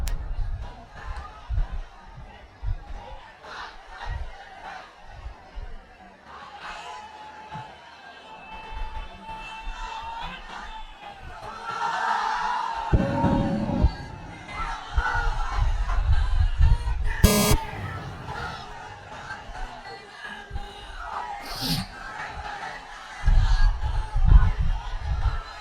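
A large crowd at an outdoor religious sermon gathering in Rangpur answers a takbir call with loud, rolling group shouts that swell and fade over a rough, echoing public-address sound, with a voice speaking between the surges.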